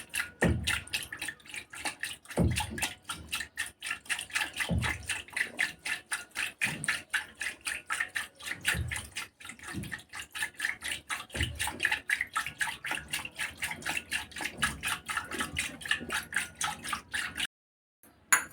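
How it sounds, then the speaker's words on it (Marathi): Curd being churned into buttermilk with a wooden churner, giving a steady run of rapid sloshing liquid strokes, loud and close, broken every few seconds by a heavier splash, then a brief stop near the end. "असं पातळ करून घ्यायचं आहे मी रवीने"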